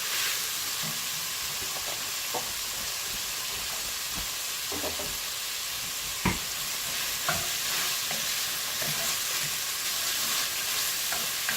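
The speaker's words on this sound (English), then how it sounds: "now we're going to saute the onion until they get soft" Onions sautéing in a pan for sweet potato and beef chili, a steady bright sizzle with occasional stirring scrapes and clicks, close and continuous without talk.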